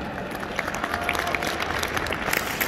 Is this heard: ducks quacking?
no